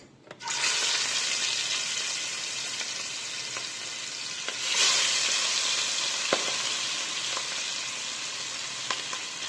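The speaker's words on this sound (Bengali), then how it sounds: "তেল গরম হয়ে গিয়েছে দিয়ে দিচ্ছি মাছ" Pieces of rohu fish dropped into hot oil for a Bangladeshi curry with taro roots, giving a sudden loud, steady hiss of frying that carries on close by with occasional pops and crackles.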